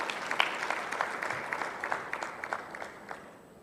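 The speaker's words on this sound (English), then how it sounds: "A big round of applause as we welcome him." Audience at a health research and policy symposium applauds to welcome a speaker, a moderate round of clapping with distinct claps that gradually fades out.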